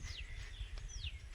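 A couple of short, thin bird chirps ring out faintly in a quiet natural spot, spaced apart over low, gentle background noise.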